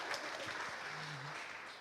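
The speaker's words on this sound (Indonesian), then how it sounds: "Tepuk tangan dulu yang untuk yang pertama." An audience at a Jakarta council forum claps briefly, a moderate, even patter of hands lasting under two seconds with no clear voices over it.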